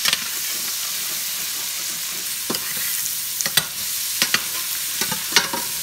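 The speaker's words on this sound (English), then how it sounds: "I'm going to go ahead and saute these onions and peppers down" Onions and peppers sauté in bacon fat and butter with a steady, close sizzling hiss, broken by several sharp clicks and scrapes of a stirring utensil against the pan; no one speaks.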